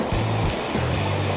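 Rushing water of a deep creek in a canyon, a loud continuous roar close by with no talking over it.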